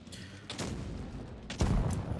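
Tank cannon fire in the mobile tank game WoT Blitz from a Defender Mk 1 emptying its autoloader drum, with several booming shots in quick succession, the loudest and closest near the end, over steady low rumble.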